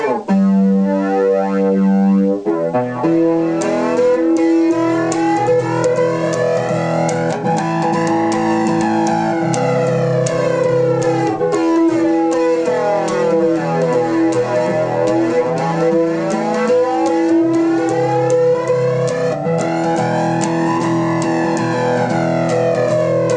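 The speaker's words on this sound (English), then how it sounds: "that's where I really like to use the distortion" A distorted electric guitar swirls with a sweeping, jet-like flange effect, notes rising and falling in slow waves throughout.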